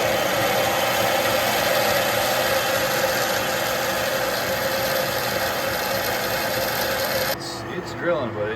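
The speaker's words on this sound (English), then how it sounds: "It's drilling, but it's not happy about it." Dull drill bit boring through a brass shifter bushing, a loud steady grinding machine whine that cuts off abruptly near the end, followed by quieter workshop noise.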